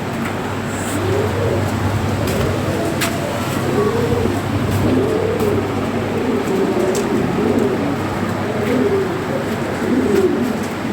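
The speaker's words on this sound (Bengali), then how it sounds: "দেখার মতো কবুতর" Lahori pigeons, including blue wing-marked birds, coo in soft, repeated rolling calls close by in a loft, with faint background hum and occasional clicks.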